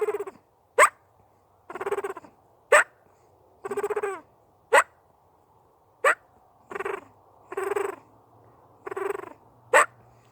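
A mouth or reed turkey call imitates a wild turkey's contented purr mixed with clucks: low rolling purrs alternate with sharp single clucks in an irregular rhythm, loud and close, with no talk.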